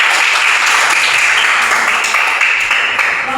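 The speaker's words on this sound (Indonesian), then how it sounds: "Semua tepuk tangan." Classroom applause after a group's presentation in a primary school religion lesson, loud continuous clapping from many children close by, holding steady throughout without a break.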